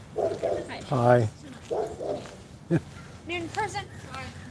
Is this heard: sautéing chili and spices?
no